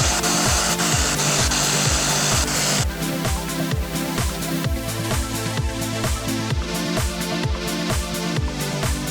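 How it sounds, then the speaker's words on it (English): Clip cutouts on a Porsche 996 fuel flap are filed and cut by hand. Quick, regular rasping strokes repeat close up, loud and steady, with a slight change in texture after the first few seconds. "So I'm gonna have to cut these out to allow that to clip into there and hold nicely"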